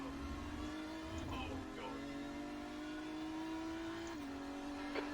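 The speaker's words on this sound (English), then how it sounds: "you've got a decent engine RPM in second gear coming out of this bend" A BMW M4 GT3 race car engine in the iRacing game pulls hard in second gear out of a bend, a steady rising drone near and fairly quiet, with a brief dip near the end.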